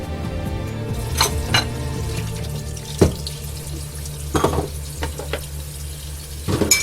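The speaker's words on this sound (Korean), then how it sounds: "주방 식기를 가지고 주방에 들어가 설거지를 하기 시작했다" Dishes being washed in a restaurant kitchen sink: running tap water with clinks and clatters of tableware at moderate distance, no voices.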